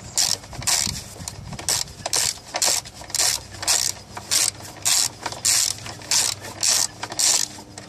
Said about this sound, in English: I'm going to take my ratchet socket here, lefty loosey, remove this 10 millimeter bolt here.